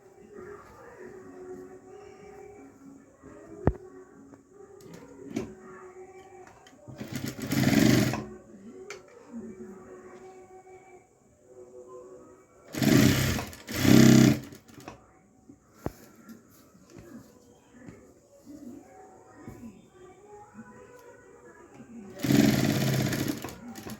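Sewing machine stitching fabric for cross-style trousers, running in several loud bursts of a few seconds each with quiet gaps of handling between them.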